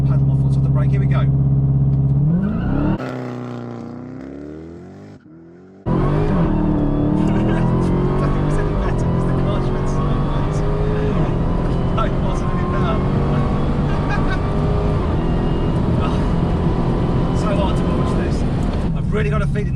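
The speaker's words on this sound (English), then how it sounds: "Okay, increase engine speed, release one paddle, release the brake." Dodge Demon engine revving at launch, a loud rising roar that climbs in pitch, briefly cuts out, then surges back hard and sustained as the car accelerates away.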